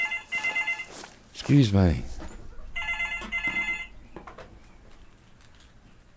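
An in-game telephone rings in short repeated electronic bursts during a hunting session, interrupting play, with someone speaking briefly nearby.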